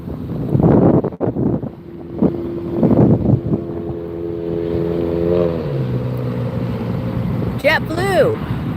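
Strong gusting wind buffets the microphone at Las Vegas airport, loud rumbling bursts early on that ease into a steadier roar, with a jet arriving in the background and a brief chirp near the end.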